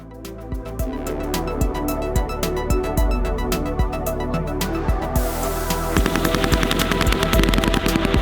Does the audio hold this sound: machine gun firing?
yes